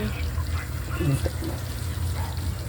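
A small splash of water pours into a pan of buttered shrimp with corn, a steady close trickle under a low kitchen hum while a person talks.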